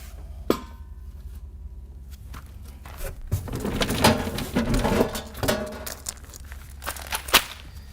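Packing paper being pulled out of a wooden sprayer crate, a run of crinkling, rustling and rubbing with a few sharp knocks, close by and uneven in rhythm.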